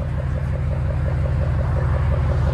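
Deep, steady engine rumble from a 2012 RAM 1500 with a 5.7L HEMI V8, true dual exhaust and muffler delete, idling loud and close with an even low pulsing throughout.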